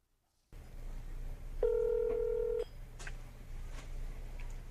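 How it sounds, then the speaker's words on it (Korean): A telephone keypad tone sounds once as a steady beep of about one second while a number is dialed, over a low background hum, with faint clicks afterward. "열차례 이상 전화를 걸었지만"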